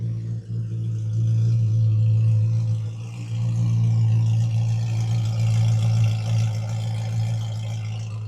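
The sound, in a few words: sports car idling with titanium exhaust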